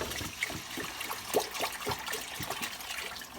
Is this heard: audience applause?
no